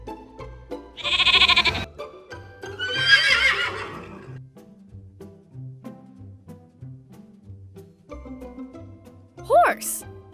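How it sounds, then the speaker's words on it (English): A farm sheep bleats in two wavering calls near the start. A brief animal squeal follows near the end, and faint tonal background runs between them. "Sheep."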